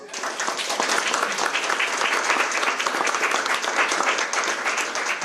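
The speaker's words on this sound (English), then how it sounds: "Let's give them all a round of applause." Steady applause from an audience at a legislative crackerbarrel forum, dense and continuous clapping holding at an even, full level throughout with no break.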